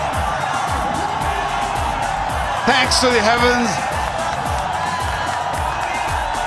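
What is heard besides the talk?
cricket stadium crowd roaring and cheering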